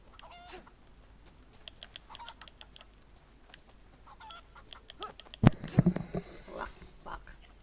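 Chicken clucking in the DayZ survival video game, a short burst of squawks erupting after muffled talk, loud and close, followed by more voices.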